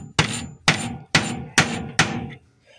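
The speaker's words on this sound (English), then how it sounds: "just go over the edge and start pounding" A hammer pounds a bent nail held over an edge to straighten it: five sharp, evenly spaced metallic strikes about half a second apart, close and loud, then a faint tap.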